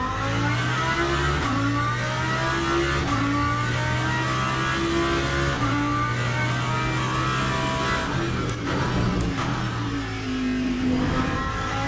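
A race car engine in the sim racing game Le Mans Ultimate revs hard and continuously, its pitch climbing and dropping through gear shifts, screaming, loud and close with no talking.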